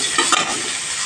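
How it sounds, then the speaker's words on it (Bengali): Chopped onion tossed into hot oil over a spice tempering for a katla fish tail, potato and eggplant curry sizzles loudly and steadily in the pan, with brief stirring scrapes near the start. "এখানে কুচানো পেঁয়াজ দিয়ে দিলাম।"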